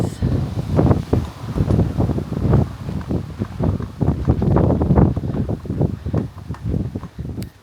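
Wind gusts buffet the microphone outdoors in a garden by newly fitted gates and fence panels, a loud, uneven rumble rising and falling in rapid bursts.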